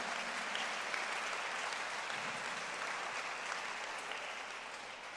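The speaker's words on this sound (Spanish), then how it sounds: "Dele una ofrenda de palmas" Church congregation clapping together in a sustained, dense round of applause, even and steady for several seconds, somewhat distant and moderately quiet, gradually tapering toward the end.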